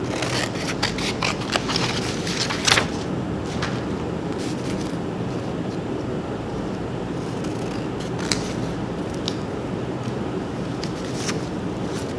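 Scissors cut paper for a paper craft, sharp repeated snips close to the microphone over steady background noise, with no talking.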